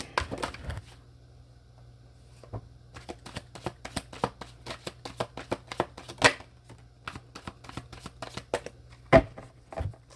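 Tarot cards are shuffled by hand at close range in a quiet room, a rapid series of crisp, soft riffling and slapping bursts with short pauses between them.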